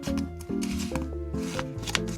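Photocards are handled and slipped into a binder, giving crisp plastic sleeve rustles, flicks and soft taps in quick, irregular bursts, close and alone.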